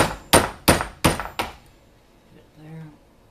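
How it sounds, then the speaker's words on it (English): Five sharp hammer blows on a screwdriver driven against a shaded pole motor clamped tight in a vise, evenly spaced and loud, followed by faint low sounds. "Take a screwdriver and a hammer."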